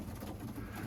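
Iraqi pigeons in Germany coo steadily in a low, continuous murmur, close and moderately loud throughout.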